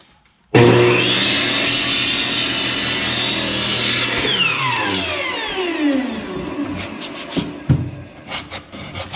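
Wooden block joints being sanded: a loud, steady abrasive whir runs for a few seconds, then winds down with a falling tone, followed by scattered light knocks and handling sounds.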